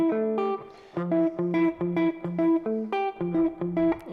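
Electric guitar picks a clean, rhythmic arpeggiated major 9 chord idea in F position, plucked notes rising and repeating in short rhythmic bursts, close and alone.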